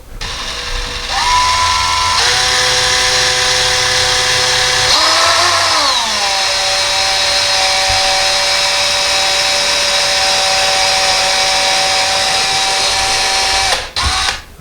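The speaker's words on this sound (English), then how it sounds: "And we're going to drill our second hole." A power drill bores a hole into a wall while blinds are being installed, its motor whirring loudly and steadily for most of the clip with pitch shifts as it bites, then stopping near the end; no talk.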